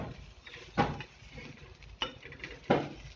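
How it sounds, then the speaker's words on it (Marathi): A spoon scrapes and stirs spicy green chilli thecha in a wide pan, with three distinct clanking strokes spaced about a second apart over faint sizzling. "आता परत एकदा मिक्स करून घेऊ आपण"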